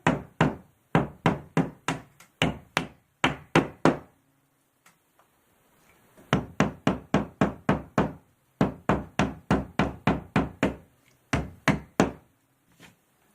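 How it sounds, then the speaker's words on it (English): Repeated sharp hammer blows drive wall anchors into a wall in quick rhythmic bursts, several series of knocks separated by short pauses, close and loud. "Then you're going to hammer your anchors in."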